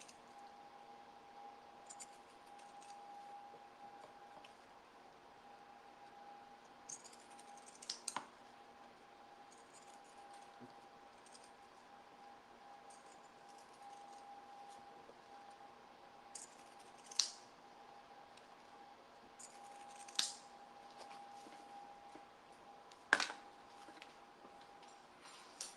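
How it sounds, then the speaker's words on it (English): Pinking shears snip through fabric around the pieces of a summer tote, a few quiet, sharp cuts spaced apart over a low steady hum. "I'm just gonna go pinking around this, the whole thing."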